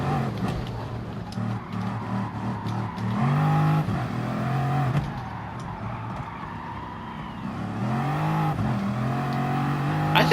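A powerful car engine, likely quad-turbo, revs and accelerates in waves, rising and falling in pitch as it pulls hard down the straights, heard from inside or near the car at moderate loudness.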